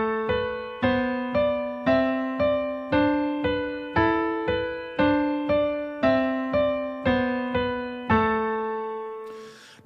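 A piano plays a two-handed scale exercise, two right-hand notes for each left-hand note, in an even, steady rhythm of clear, close, unaccompanied notes, ending with a brief noise.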